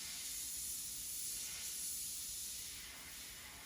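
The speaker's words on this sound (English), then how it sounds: "I'm also going to spray around the eye with this color" Airbrush spraying medium dark brown paint around the eye of a flocked specklebelly goose decoy, a close, soft, continuous airy hiss that swells gently and eases off, with no voices.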